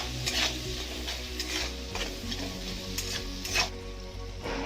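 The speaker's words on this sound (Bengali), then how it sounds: "একবার ভালোভাবে মিশিয়ে নিচ্ছি সবকিছু।" Spices being stirred into mustard rohu fish in a hot pan, a constant sizzle broken by repeated scraping strokes and light clinks of the spoon against the metal, close and moderately loud.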